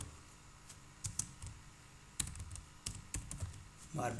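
A search is typed on a computer keyboard in quiet, irregular bursts of close, crisp key clicks.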